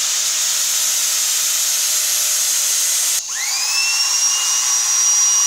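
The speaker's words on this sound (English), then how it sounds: "So it's going to take some careful drill work" A high-pitched whining hand drill drills into a bolt, running steadily, briefly cutting out, then spinning back up to a sharp, even whine, loud and close.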